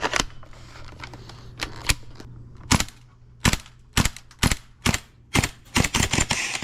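A gas airsoft gun fires BBs from a small magazine in sharp single pops, a dozen or so crisp reports spaced irregularly and growing more frequent, close and loud over a faint background hum.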